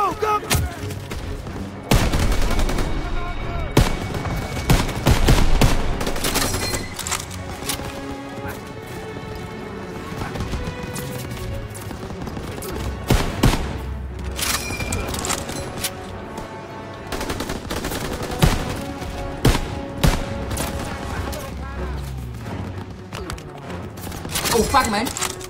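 Intense World War II battle gunfire from a Call of Duty shooter game, with machine gun bursts, scattered rifle shots and heavy impacts crowding the whole stretch at close, loud range, while voices shout amid the fighting.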